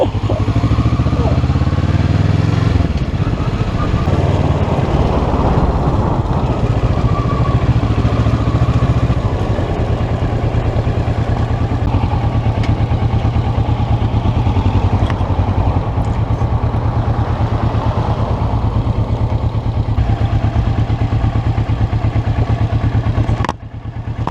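A motorcycle engine idles at traffic lights with a loud, steady, close rumble that runs continuously, and voices talk faintly over it.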